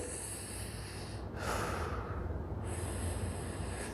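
During a banded back stretch, one long, heavy breath is drawn in close to the microphone, a loud airy rush through the nose against quiet room hiss.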